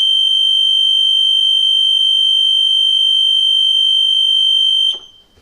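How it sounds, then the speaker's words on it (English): DrainMajor 60 Duo pump station high-level alarm sounding as a loud, steady single-pitch electronic beep held for about five seconds, then cut off. "Before the other pump kicks in, the high level alarm will activate"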